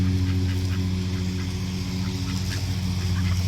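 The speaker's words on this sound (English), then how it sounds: "I feed the ducks twice a day." Homestead ducks quack in a continuous, loud, close clamor of honking fowl calls over a steady low hum. No one speaks.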